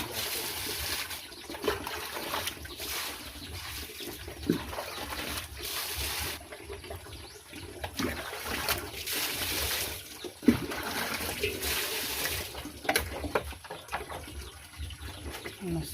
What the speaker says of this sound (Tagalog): Yan yung hugasan natin.